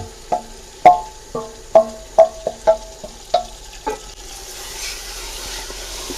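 Chicken pieces going into a pot for village-style chicken polao, a series of sharp sizzling bursts with stirring clatter in an irregular rhythm, close and fairly loud, fading into a steady soft hiss.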